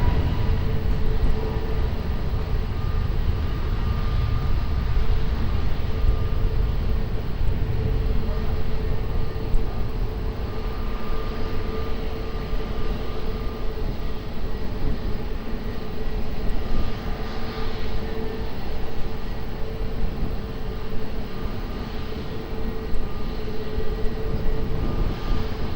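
An airplane at Lisbon Airport takes off from runway 20, a constant loud roar of jet engines that holds steady for the whole stretch. No voices are heard.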